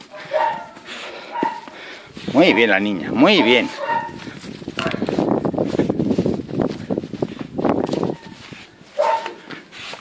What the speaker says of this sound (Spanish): Es una perra, una de las mejores perras que tenemos.